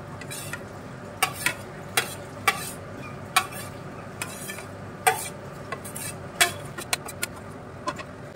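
A spoon or spatula scrapes and taps against a pan while shredded chicken bharta is stirred and mixed in oil, giving irregular sharp metallic clinks over a soft background sizzle, close and moderately loud.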